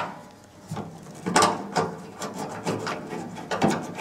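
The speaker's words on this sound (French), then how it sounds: "On va mettre ces petites vis dans les trous." Small screws being fitted and turned into holes of a pergola frame, giving a series of short woody scrapes, rubs and clicks at close range, irregular and without speech.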